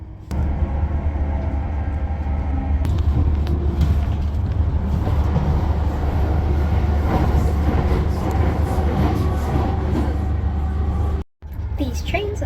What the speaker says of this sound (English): The journey on the Class 379, we're only taking it one stop to Welling North